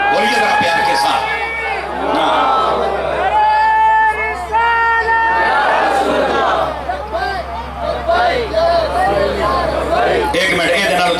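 A large religious gathering's audience raises a loud, rhythmic chanted slogan in unison, full crowd voices swelling and pulsing over several seconds, with cheering and general hubbub around it.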